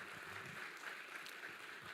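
A church congress audience gives steady, dense applause, many hands clapping together at once in a continuous roar without pauses.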